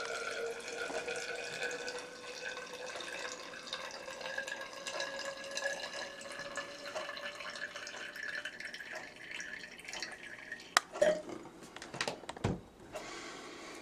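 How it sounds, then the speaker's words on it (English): Distilled water poured into a glass as a steady trickle whose pitch climbs as the glass fills, alone and fairly quiet, ending with a few sharp knocks and clinks. "You can just fill it up to 59 here with your distilled water, or you can dump that out and pour it in."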